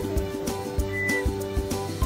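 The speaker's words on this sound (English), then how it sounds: "This is what you're going to listen when you start whistling." Melodic whistling with bright sustained tones, accompanied by light rhythmic percussive taps in a steady beat.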